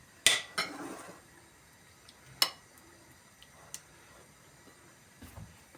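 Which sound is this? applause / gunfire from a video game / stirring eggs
stirring eggs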